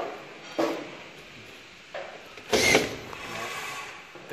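A drywall ceiling screw gun is pressed in short bursts, giving a couple of brief whirs and then a louder spinning whine with mechanical clicks, all close by.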